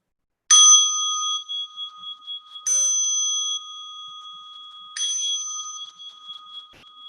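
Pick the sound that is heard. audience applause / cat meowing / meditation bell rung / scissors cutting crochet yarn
meditation bell rung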